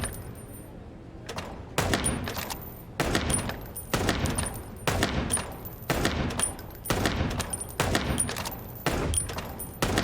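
Repeated bursts of gunfire from shooting in the noir detective game Chicken Police, loud sharp volleys recurring every second or so across the whole stretch with no talk.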